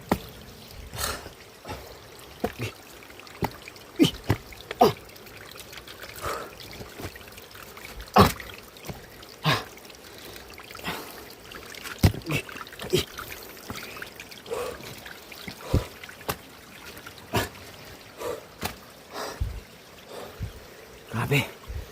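Water trickles from a small river stream in a steady low gurgle, broken by many sharp splashes and clicks.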